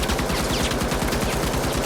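Rapid automatic gunfire from the heavy gun in the shooter The Finals, a loud, continuous stream of evenly spaced shots hammering without pause for the whole stretch.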